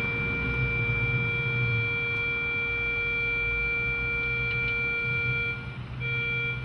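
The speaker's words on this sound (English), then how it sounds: "Now it starts with a long, steady tone, and then it becomes a broken tone." An accessible pedestrian crossing signal sounds a long, steady electronic tone over street hum, continuing unbroken for several seconds before a brief gap and resumption.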